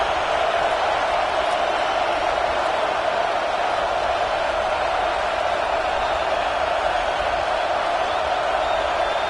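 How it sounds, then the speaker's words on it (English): A stadium crowd in the College Football 26 video game, during a Clemson season, roars as a kicker lines up on fourth down: a dense, steady wash of cheering and noise that holds evenly throughout. "This crowd trying to do its part to get inside the kicker's head."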